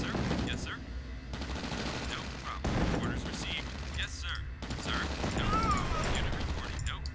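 Continuous crackling gunfire and explosions from units fighting in the real-time strategy game Command & Conquer: Tiberian Sun, a dense battle din with repeated bursts and no pauses.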